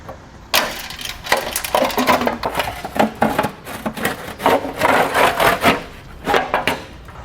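A flat-bladed screwdriver pries and scrapes a sharp metal heat shield off a car's underbody, giving repeated rough scraping and clanking bursts at close range with no talking.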